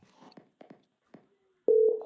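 A telephone call tone sounds near the end, placed while phoning a friend: a steady, fairly loud ring-back burst after a stretch of faint clicks and handling noises.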